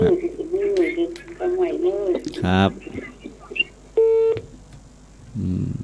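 A telephone call connecting produces a short electronic tone partway through, with people talking before and after it.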